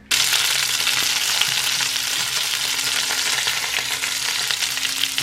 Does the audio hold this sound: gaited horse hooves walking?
no